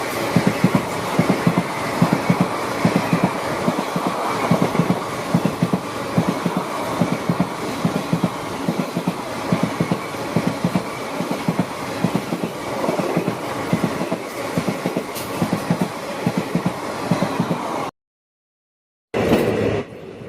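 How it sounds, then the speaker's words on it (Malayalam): The Rameswaram–Nagercoil superfast express runs past, its wheels beating a steady clickety-clack over the rails, loud and close for most of the stretch before a brief gap and a short return. "Rameswaram Nagercoil super fast express ആണ് ഈ പോകുന്നത്"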